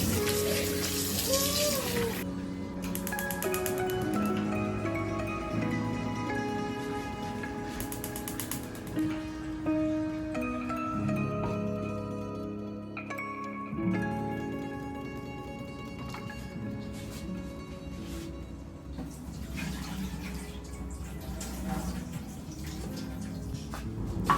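Running tap water pours steadily while fish is washed under it in a home kitchen, with occasional splashes and clinks, and faint music playing underneath.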